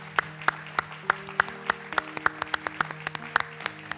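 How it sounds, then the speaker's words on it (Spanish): A church congregation gathered for worship claps as an offering to God, with sharp distinct claps in a quick irregular rhythm over a soft sustained musical tone, fairly quiet and close. "Vamos a darle una ofrenda de aplausos a Dios."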